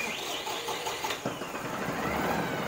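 A new export-model Deutz-Fahr 4080E tractor engine cranks and catches, a short burst of starting noise that settles into a close, rough running hum.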